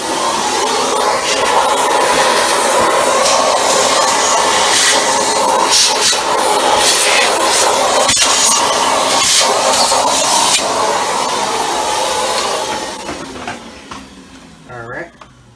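A Dyson DC25 vacuum cleaner runs loud and close with a broad steady whoosh for about twelve seconds, then winds down, with speech heard over it.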